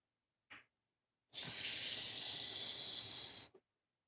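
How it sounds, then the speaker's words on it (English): A short splash, then a steady hissing pour of water into a ramen pot for about two seconds, close and fairly quiet, with no talking. "And then I'm just going to add just a little bit of water."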